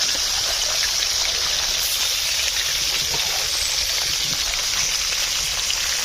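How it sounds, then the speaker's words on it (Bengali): Water is poured into cooked lentil dal made with a fish head, a steady, close trickling splash that runs unbroken for several seconds with no voices. "এবার হালকা করে জল দেবো, মাথা দিয়ে আবার একটু পাতলা করে দিই।"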